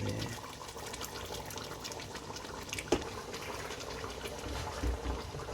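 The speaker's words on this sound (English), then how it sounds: "Let's put some water in there." Water is poured into a pot of lamb and potato curry in a kitchen, a steady splashing and filling sound that runs for several seconds, close by, with one brief clink partway through.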